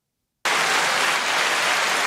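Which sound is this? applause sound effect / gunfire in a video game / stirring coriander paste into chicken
applause sound effect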